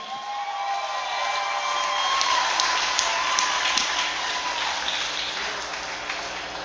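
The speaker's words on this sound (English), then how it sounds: "Ladies and gentlemen, how about a round of applause for some high-level grappling?" Crowd applause after a grappling match at a combat event, a broad sustained roar of clapping that swells slightly midway and stays strong and steady throughout.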